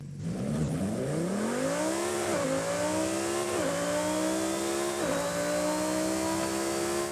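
Lamborghini Huracan Sterrato with a 5.2 litre V10 in Forza Horizon 5 revs loud and close, its pitch climbing steadily then dropping and rising again through three quick gear shifts, with no talk.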